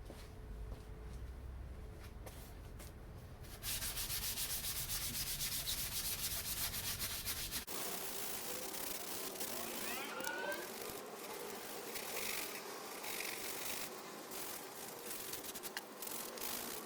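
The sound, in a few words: sanding a boat bulkhead before priming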